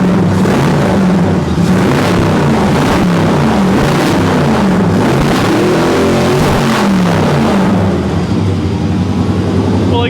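A loud 1957 Chevy engine warming up runs steadily at idle with a rough, throaty rumble and slight fluctuations in revs, close up, with no voices.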